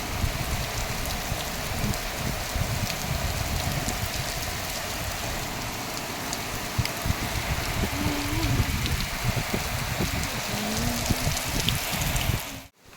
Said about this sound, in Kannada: ಸೈಕ್ಲೋನ್ಗೆ ಸೈಕ್ಲೋನ್ ಎಫೆಕ್ಟಲ್ಲಿ ಮಳೆ